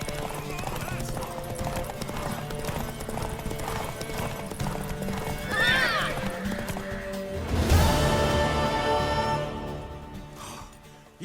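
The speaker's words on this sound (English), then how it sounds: "Want that horse, don't ya?" Horse hooves clip-clop in a quick, steady rhythm in The Witcher 3: Wild Hunt video game, then the horse neighs loudly; voices talk over the galloping.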